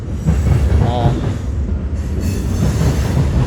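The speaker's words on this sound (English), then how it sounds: "are listening to the train, and they're picking out a rhythm that kind of syncs up with the train." A train passes close by with a loud, steady rumble of rolling wheels and a brief metallic squeal, continuous throughout.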